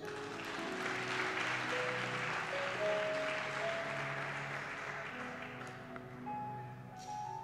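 A church congregation claps for Jesus during a teaching service: soft, steady applause spreads through the room for several seconds over sustained keyboard tones, fading slightly toward the end.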